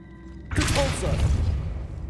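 A Depulso spell bursts out in Hogwarts Legacy, a sudden loud whooshing blast with low thuds after a quiet start, and a voice speaks over it.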